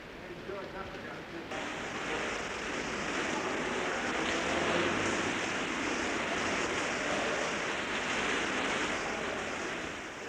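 A broad, steady roar of a waterfall inside a cave fills the space, loud and constant with no pauses, like a heavy cascade nearby.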